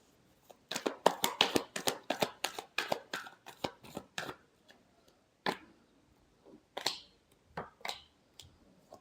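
Tarot cards are shuffled by hand in a quick run of crisp flicks and snaps, then several slower, scattered card slaps, close and dry with no voices.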